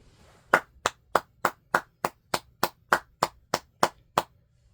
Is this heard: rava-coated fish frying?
no